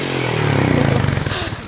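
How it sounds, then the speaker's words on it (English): A motorcycle revs loudly nearby in a wheelie, a rising throaty engine note close to the mic for under two seconds, with a few voices faintly mixed in. "I think he was asking you if you want to see his wheelie."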